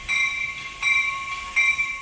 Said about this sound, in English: arrived to Chicago by Metra train Thursday night